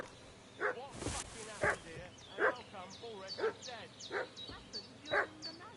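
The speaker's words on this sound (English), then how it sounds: "What's that dog making such a fuss about?" Dog in the medieval video game Kingdom Come: Deliverance II, yipping and whimpering in a steady string of about eight sharp, moderately loud barks over a faint background ambience.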